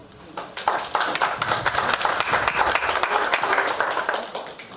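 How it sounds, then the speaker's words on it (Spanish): An audience at a journalists' conference on Peru's 2026 general elections in Tacna applauds a speaker, a dense and fairly loud wash of clapping that holds steady for several seconds with a few individual claps standing out. "Lo recibimos con aplausos, por favor"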